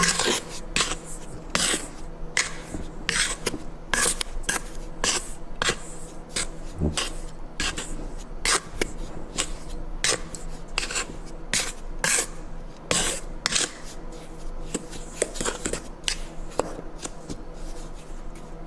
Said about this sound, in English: I'm going to take my wooden spoon and give my dry ingredients a good mix